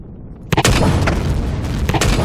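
Turret fire and explosions in the video game Empyrion land as loud, dense booming blasts, a short run of rapid heavy bursts that fill the clip with no speech.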